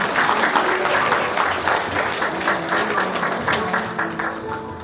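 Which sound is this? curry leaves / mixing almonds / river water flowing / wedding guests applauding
wedding guests applauding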